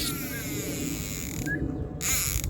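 A fishing reel's drag ratchet on a rod at a pay-to-fish pond in Chachoengsao, Thailand, buzzes and whirs as a fish pulls line, giving a steady mechanical rattle with a couple of sharper clicking bursts near the end.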